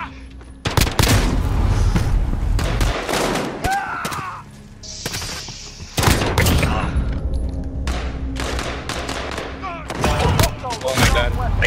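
Rapid bursts of gunfire from a Modern Warfare gun game match, loud and repeated in clusters with thuds and booms, under excited talk from players.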